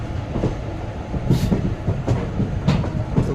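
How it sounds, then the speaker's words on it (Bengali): A train pulls out of Bardhaman station at night, heard from on board as a steady rumble. Rhythmic wheel clatter and knocks recur every half second or so, with occasional brief bursts of hiss. "এখন বর্ধমান থেকে সবে ছাড়লো ট্রেনটা"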